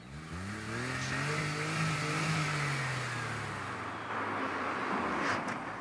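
A car engine revs up and holds a rising, steady drone close by before dropping back and surging again near the end, with no talk over it.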